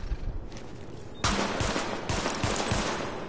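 Sidearm fire at highlighted practice targets in the game The Division: quieter ambience at first, then a sudden burst of rapid, closely spaced pistol shots that continue loudly to the end.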